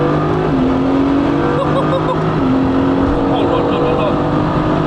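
A 750 hp Mercedes-AMG GT S roars loudly at close range, its engine rising and falling through several rev sweeps with crackling exhaust pops, while a man exclaims over it.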